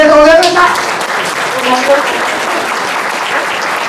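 An audience at a classical literature lecture event in Hakui breaks into warm applause just as a sung phrase ends, the clapping steady and full for several seconds with voices murmuring underneath.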